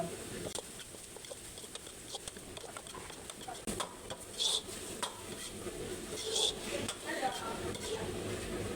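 Straw mushrooms and canned fish stir-fried together with spring onions in a pan, soft continuous sizzling under intermittent spatula scrapes and light clinks, fairly quiet and close, with a couple of brief higher clucking sounds in the background.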